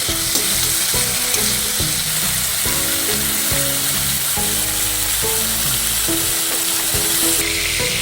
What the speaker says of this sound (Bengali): মাছগুলোকে হালকা করে ভেজে নেব, খুব বেশি ভাজবো না